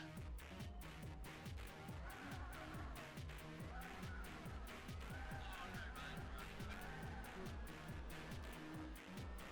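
A car laps the Tokyo R246 street circuit in Gran Turismo 4, its engine revving up and dropping again through repeated gear changes, fairly quiet and continuous throughout.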